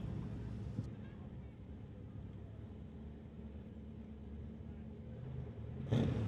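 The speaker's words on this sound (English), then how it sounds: "wheel-standing Jeep Cherokee trying to keep that front end down" A Jeep Cherokee drag racing on the street in a wheel-standing launch gives a steady, muffled engine rumble throughout, then a louder burst near the end. No one speaks.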